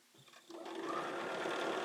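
A sewing machine with a 1/4-inch patchwork foot stitches patchwork squares, starting after a brief quiet pause and then running in a steady, close whirring hum that builds slightly.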